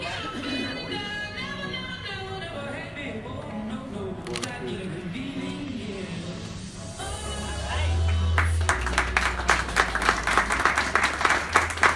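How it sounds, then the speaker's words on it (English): Audience clapping at a mayor's small business award event, a steady wash of applause under an announcer's voice that swells louder and sharper toward the end. "Round of applause."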